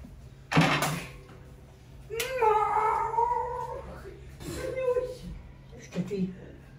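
A cat being teased lets out drawn-out, wavering meows and yowls, close and fairly clear, with a sharp knock at the start and people talking around it.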